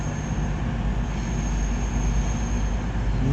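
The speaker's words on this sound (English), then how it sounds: "Next train arriving is going to be a EMR Class 222 Meridian." An EMR Class 222 Meridian diesel train pulls into London St Pancras, a steady low rumble and hum with a faint high whine, growing slightly louder throughout, no voices.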